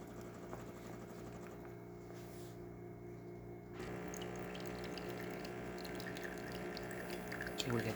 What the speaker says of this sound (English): Flow on the hot water, as you can see,